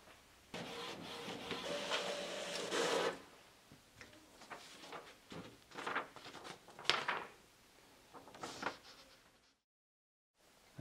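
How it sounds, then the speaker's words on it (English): A small printer outputs a pressure test report from a data logger, with bursts of mechanical whirring and ticking feed motion, close and uneven, then stopping into silence. "we'll hit the printer button, and that will automatically send your test report to the printer."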